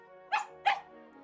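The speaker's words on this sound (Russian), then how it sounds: "Собака напомнила о себе звонким лаем." A dog from the video game Tiny Bunny gives two loud, sharp barks about a third of a second apart, close and clear over a quiet tonal game background.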